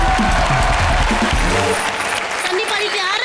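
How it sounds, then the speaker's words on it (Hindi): Studio audience applauding on a Hindi comedy game show, a loud steady burst of clapping mixed with music and voices that thins out over about three seconds. "जोरदार तालियां"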